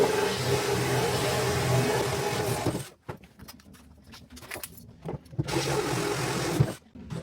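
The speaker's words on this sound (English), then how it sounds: "drill through from the other" Power drill with a hole cutter boring through wood during a kitchen install, grinding steadily and loud for nearly three seconds, then stopping, with brief bursts of cutting resuming and running again toward the end.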